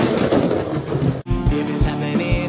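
Thunder from a lightning strike during a severe storm with rain, loud and close: a heavy rumbling crack fills the first half, a brief drop, then rolling thunder continues with rain noise throughout.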